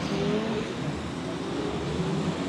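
BMW E30 street-category drift car on track, giving a steady roaring engine drone mixed with broad tyre and track noise, heard from a moderate distance without clear passes.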